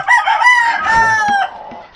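Chickens at a small chicken farm cluck and a rooster crows close by in a long, loud, wavering call that fades out, with no talking.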